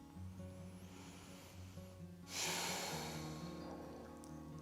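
Slow, steady breathing of a person pausing at the top of a shoulder release exercise with Franklin balls, a soft continuous breath that swells into a louder, airy exhale partway through, close and alone.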